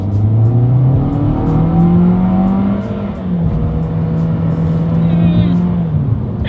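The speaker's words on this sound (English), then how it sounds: "let's do a quick little acceleration test here, and let's see how quickly we can get the new 2021 Corolla here up to speed" A 2021 Toyota Corolla compact with a CVT accelerates hard on a straightaway, its engine drone loud and close, climbing steadily in a long rising pull, briefly dipping and resuming, with the steady hum of road and wind underneath.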